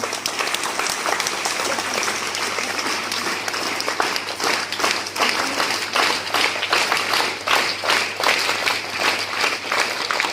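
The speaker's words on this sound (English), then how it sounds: "So please welcome them once again with a clap" A crowd at an Independence Day program applauding steadily for about ten seconds, a dense, sustained wash of clapping from a sizeable audience with no voices over it.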